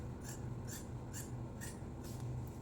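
Scissors cut through blouse fabric for a patchwork blouse in a run of soft, rhythmic, close snips, about five evenly spaced, with quiet rustling in between.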